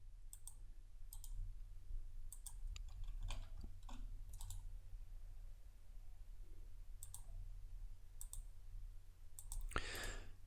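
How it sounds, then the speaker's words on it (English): Sharp computer mouse clicks while placing objects in electrical panel design software, a sparse irregular series of quiet close-up clicks over a low steady hum, with a brief louder rustle near the end. "I'm just right clicking to place each of these"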